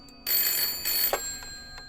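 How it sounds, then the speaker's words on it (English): An old telephone bell rings in the Layers of Fear horror game, one loud metallic burst of about a second followed by fainter ringing echoes fading off. "Why is there a phone ringing?"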